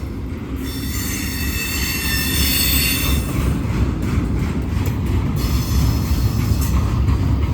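A slow Norfolk Southern freight train rumbles steadily past, its lead locomotive shut down for dynamic braking issues, with high metal wheel squeal ringing through the first few seconds over continuous heavy rolling noise.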